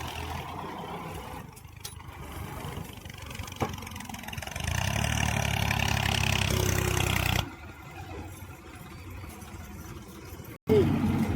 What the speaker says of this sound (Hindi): अब तो निकल गया भाई ट्रैक्टर।